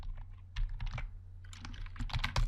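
Python code being typed on a computer keyboard, a quick, irregular run of close key clicks and taps with short pauses between bursts, fairly quiet and with no voices.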